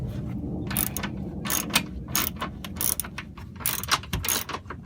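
A ratchet wrench clicks in quick bursts, turning bolts one at a time while a hitch is installed on a 2011 Mercedes Sprinter passenger van. The ratcheting is close and loud with brief pauses between strokes, and no speech.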